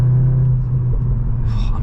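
A 2023 Cupra Leon engine rumbles loudly at low pitch after a downshift, the note shifting as it revs, with a brief higher hiss toward the end.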